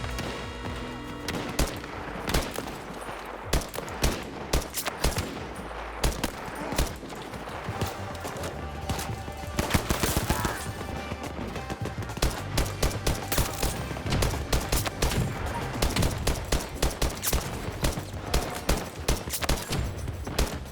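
Rapid automatic weapon fire from a first-person shooter match in Battlefield 2042, dense continuous bursts of gunshots with booming impacts throughout, loud and close, with brief speech mixed in.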